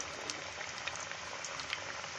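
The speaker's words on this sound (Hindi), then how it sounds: "अभी हम इन पीसेस को अच्छे से गोल्डन ब्राउन होने तक फ्राई कर लेंगे" Pieces of elephant foot yam deep frying in hot oil over a medium flame, giving a steady, dense bubbling hiss with small crackles throughout, close by and with no voices.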